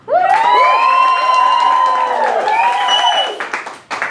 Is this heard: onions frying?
no